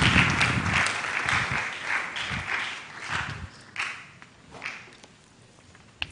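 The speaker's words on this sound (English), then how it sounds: "Please, a round of applause for him." An audience applauds at a National Science and Maths Quiz mentorship session. The clapping is moderately loud at first, then thins out and fades over several seconds, with a few stray claps toward the end.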